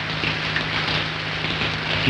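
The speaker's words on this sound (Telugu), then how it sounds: "అదిగో చూడు, వర్షం తరుముకొస్తుంది." Rain pours down as a storm approaches, a dense steady hiss of falling drops with no break and no voices.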